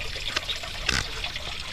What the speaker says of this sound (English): I don't know if you guys can hear that waterfall.